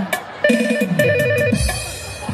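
A mobile phone ringtone plays during a live Home Minister stage event in Salgare, Sangli: a clear, repeating melodic tone pattern sounds over a murmuring crowd, loud and close throughout.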